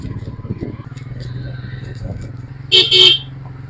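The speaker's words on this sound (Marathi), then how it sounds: "पल्सरचा हॉर्न आहे हा" Horn of a Bajaj Pulsar motorcycle at a biking event in Panchgani, sounding two short, loud toots near the end over engine rumble and background chatter.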